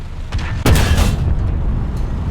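A Cold War Japanese tank's cannon shot in War Thunder, a single sharp loud boom with a rolling low rumble tail, preceded by faint engine noise, no talk.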